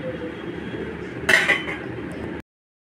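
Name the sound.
wok being placed on a gas stove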